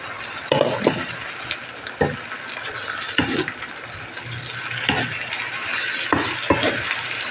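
Rice being stir-fried with sautéed aromatics in a pan for a Chinese fried rice dish, with a steady sizzle broken by repeated scraping and clinking strokes of a utensil against the pan, close and fairly loud.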